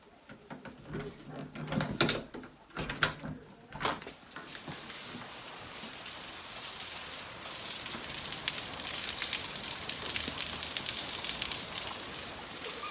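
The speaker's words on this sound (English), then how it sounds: "Listen to the rain out here." Heavy rain hisses steadily outdoors, with a few knocks and thumps early on before the downpour settles into a constant roar.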